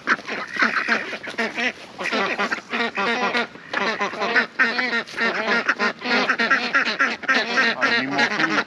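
Ducks and geese quack and honk in a dense, continuous chorus, close and loud, with overlapping calls throughout.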